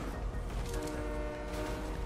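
A train in Minecraft rumbles steadily and continuously at a fairly loud level, with a dense low chugging texture and faint horn-like tones running through it.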